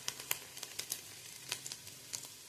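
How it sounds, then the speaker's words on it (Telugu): Shahi jeera (caraway) seeds sizzling in hot oil, crackling in a rapid string of sharp little pops and spits over a soft steady fry hiss while being stirred. The sound is fairly faint and close, with no talking. "సాజీరా వేసేసుకుందాం, మళ్ళీ తిప్పేసుకుందాం"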